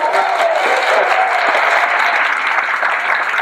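An outdoor crowd at the Cape Cod Canal centennial celebration breaks into sustained applause, a continuous loud patter of many hands with faint voices mixed in.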